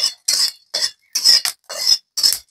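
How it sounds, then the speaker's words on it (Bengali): Whole cinnamon, cardamom and cloves being dry-roasted in a kadai, heard as six rhythmic, crisp scraping and rattling strokes of a spoon against the metal pan with brief silences between. "আমি শুকনো কড়াইতেই মশলাগুলো ভাজি করে নেব।"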